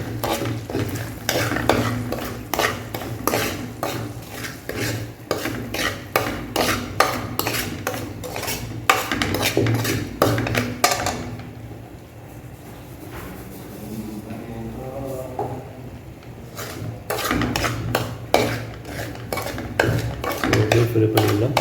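Arabian sweet dough fries in oil while a utensil scrapes and knocks against the pan in quick repeated strokes over a steady sizzle, with a brief quieter stretch midway.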